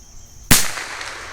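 One sharp, loud crack from a Bergara B14R .22LR rifle rings out and then decays quickly into a short outdoor tail, with no talking.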